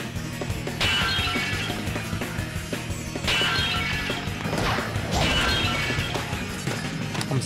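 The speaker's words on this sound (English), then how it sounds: "I'm smashing all the pots." Pots smashing in a video game, a run of loud, repeated crashing breaks with heavy whacks over a busy game soundtrack, coming in bursts roughly every couple of seconds.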